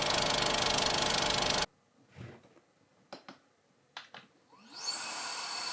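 Cordless Jet Dryer air blower starts with a loud, steady broadband whoosh, cuts off abruptly, then after a few faint clicks spins back up with a rising whine to a sustained hiss.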